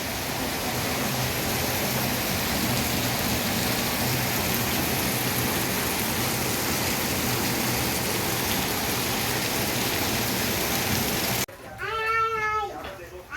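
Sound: heavy rain pouring down

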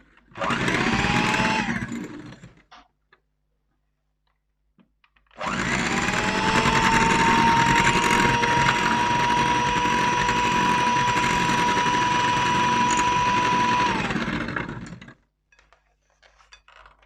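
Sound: electric hand mixer whisking

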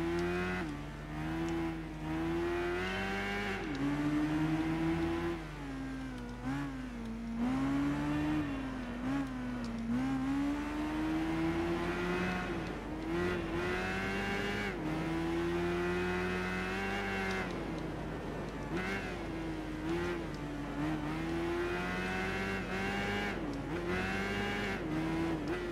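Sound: motorcycle engine accelerating in Tourist Trophy video game

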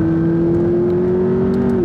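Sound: Abarth 695 Biposto car exhaust

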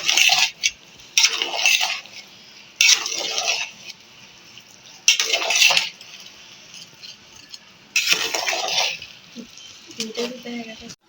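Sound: stirring fried beef in a cooking pot

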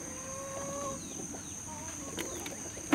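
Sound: chickens clucking

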